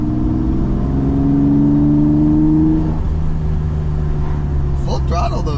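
BMW E28 with an M30 engine on individual throttle bodies and a full exhaust, heard from inside the car as a loud engine note that holds and rises, then drops away, with a voice talking near the end.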